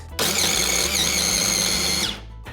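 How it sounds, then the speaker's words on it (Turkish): A kitchen food processor grinds about 50 grams of raw almonds, starting abruptly into a loud, high whining motor roar that holds steady for about two seconds, then winds down and cuts off. "Şimdi hepsini mutfak robotunda çekeceğiz."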